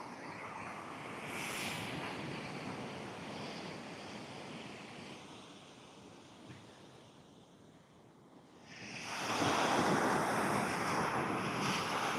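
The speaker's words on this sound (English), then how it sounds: "some of these waves are coming up fairly high up the beach too" Waves wash up a beach at low tide with a steady rushing surf, easing off midway before a louder surge of breaking water rolls in, with wind buffeting the microphone and no talking.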